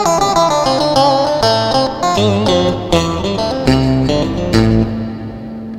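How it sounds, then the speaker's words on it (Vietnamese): A Boss GT-100 guitar effects processor on its ống tao đôi preset, set up for Vietnamese traditional music: a lead guitar melody with bent, sliding notes, heavy effects processing and reverb, played alone and close for several seconds. "Đây là tiếng ống tao đôi."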